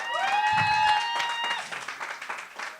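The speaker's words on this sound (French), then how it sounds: "On applaudit très fort pour lui." A comedy club crowd claps and cheers steadily, with a high, steady ringing tone sounding over the first half.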